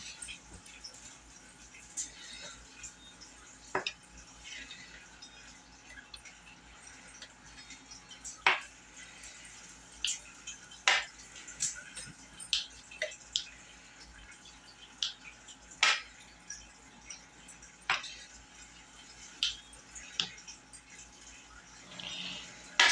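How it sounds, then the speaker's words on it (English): A pizza cutter rolls through homemade pasta dough in a home kitchen, giving soft, faint clicks and light taps at irregular intervals against a quiet background. "Pizza cutter."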